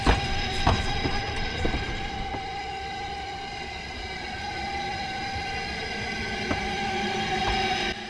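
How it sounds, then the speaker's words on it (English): A double Fairlie steam locomotive, an 1879-built engine, moves with its rake of coaches in a steady, continuous rumble and rattle, with occasional sharper clanks standing out from the running noise. "Having made its way into the station with its rake of coaches, the locomotive then runs back to take its place at the opposite end of the train"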